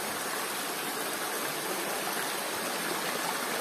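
The Way Bernung river, a natural stream near the Ramuan waterfall, flows with a dense, steady rushing hiss that stays even and continuous throughout, close and fairly loud with no voices.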